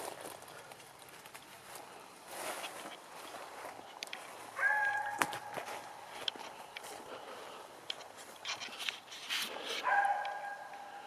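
A neighbor's dog barks in short, scattered bursts from a distance in a backyard with trees, intermittent and moderately faint against outdoor ambience.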